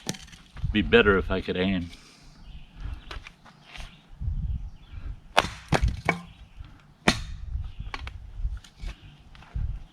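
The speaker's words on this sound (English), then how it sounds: "it didn't take that much effort to split that wood" A hatchet splits firewood outdoors, giving several sharp, woody cracks and thuds spaced a second or two apart, close and loud, with someone talking briefly between strikes.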